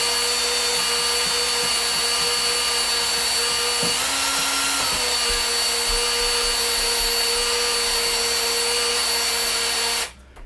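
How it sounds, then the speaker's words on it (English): A power drill spins an engine valve to lap it on a 1950 MG, whirring steadily and continuously at close range, its pitch briefly shifting midway, then cutting off abruptly at the end. "So just pop the drill on the end of the valve and just nice and slow."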